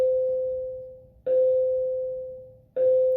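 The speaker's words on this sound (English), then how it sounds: "It's a bell." A school bell chimes three times in a clear, ringing tone, each strike sustaining and slowly fading before the next, with no voices.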